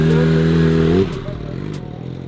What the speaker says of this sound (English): I think we got a running motorcycle